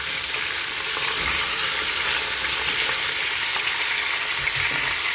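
Meat browning in a hot pan for couscous after salting, a loud steady sizzle and frying hiss filling the close foreground, continuous with no talk.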